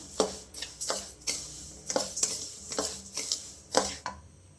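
Rice dry-roasted in a pan until lightly browned, with a utensil scraping and stirring in a steady rhythm of sharp, close scrapes roughly every half second, no voices.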